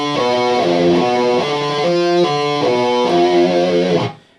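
Heavily distorted electric guitar plays a death metal pattern built on hammer-ons and pull-offs, with choppy, stepping riff notes in a tight repeating rhythm, loud and close, before ringing out and cutting off abruptly near the end.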